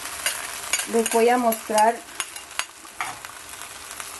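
Wild sweet potatoes cook in a pan, a soft sizzle with scattered clicks of stirring, while a person speaks briefly near the start.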